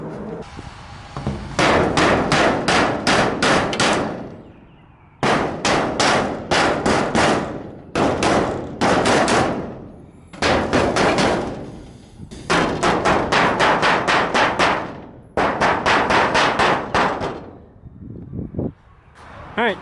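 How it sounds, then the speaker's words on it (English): Body panel hammers strike small dents in aluminum in loud, rapid metallic bursts, each flurry of quick blows lasting a couple of seconds before a brief pause and another round. "I'm gonna be using these body panel hammers just to hammer these little aluminum dents"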